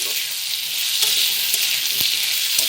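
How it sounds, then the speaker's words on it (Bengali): Potatoes and onions frying in a pan with turmeric and salt for a prawn and ridge gourd curry, giving a steady, close sizzle throughout with a couple of brief stirring knocks. "হলুদ দেওয়া হলো এবং আলুটাকে আমরা পেঁয়াজের সাথে ভালোভাবে ভেজে নেব"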